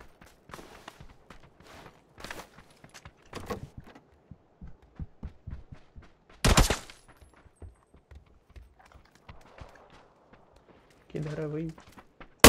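Kar98 sniper rifle shots in PUBG on PC: a few sharp distant cracks, including one loud broadband blast midway, scattered among footsteps and game noise, with a player talking over parts of it.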